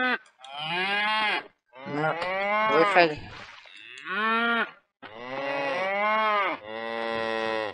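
Cattle in the video game Survivalcraft 2 give long, loud harmonic moos in several separate calls, one after another with short gaps, close by, with a brief spoken word among them.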